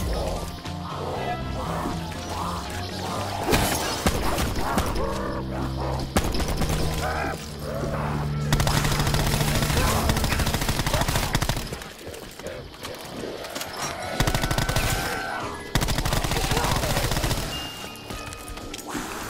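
An assault rifle fires in the Black Ops 4 video game, with repeated bursts of gunfire mixed with crashes, impacts and explosions, loud and chaotic throughout, with brief quieter gaps.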